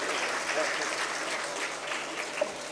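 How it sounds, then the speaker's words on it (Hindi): A crowd at a Gatka championship prize ceremony applauds in a soft, even wash of distant clapping that holds steady and faint across the whole stretch. "आपके लिए एक तालियां जरूर बनती हैं।"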